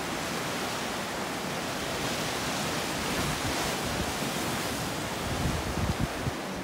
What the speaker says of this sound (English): You hear the sound of the ocean.